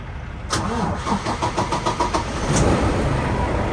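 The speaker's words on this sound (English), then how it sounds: "Now it's gonna crank right up." Volvo VNL860 truck engine started by remote start: a burst of rhythmic cranking, then the diesel catching and settling into a loud, steady idle nearby.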